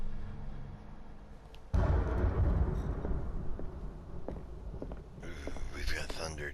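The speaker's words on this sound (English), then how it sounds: "We've got thunder too." Thunder rumbles in the Call of Cthulhu video game, a loud low roll that swells abruptly and lingers for several seconds under faint whispery ambience.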